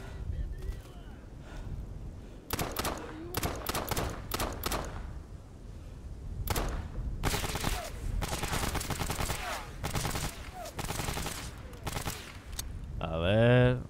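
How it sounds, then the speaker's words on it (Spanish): Gunfire in the shooter game Stalker Anomaly, with rapid bursts and single shots fired at the player coming in dense clusters, loud and close, mixed with windy game ambience and a brief gasp-like sound at the end. "Mira, mira, mira, mira cómo me está disparando."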